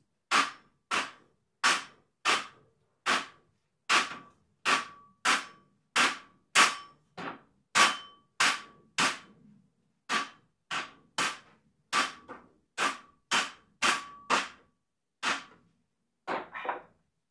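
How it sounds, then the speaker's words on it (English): Hammer strikes on shelf connections while assembling a Series 500 shelf, roughly two dozen sharp, loud, evenly spaced cracks in a steady rhythm, close and dry with short decays and no talk. "Make sure to hammer down that."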